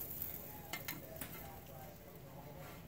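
A pancake sizzles in a frying pan, a soft steady frying hiss with a few faint clicks of utensils against the pan, heard close and alone.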